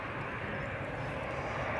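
Qatar Airways Airbus A350 jet at Edinburgh Airport, a steady broadband engine roar heard from a distance, holding even and unbroken throughout with no voices.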